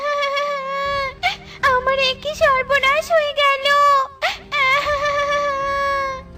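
A Bengali cartoon character cries and wails in a high, quavering voice after a goat is stolen, with tearful lamenting speech rising and falling in sobbing bursts.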